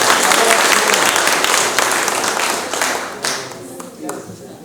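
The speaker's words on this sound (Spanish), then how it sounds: "que se escuche el aplauso si queremos otra" An audience claps and applauds at a live pirekua music event, a dense broadband wash of clapping that starts loud and gradually thins and fades over several seconds.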